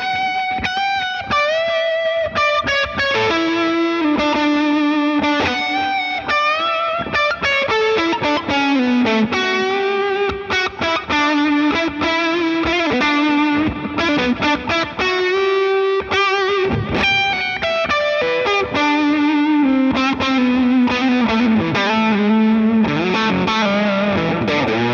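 An electric guitar with a maple cap neck plays a melodic line through a Keeley Dark Side fuzz pedal, thick and distorted with a chorus-like shimmer, loud and alone with no talking.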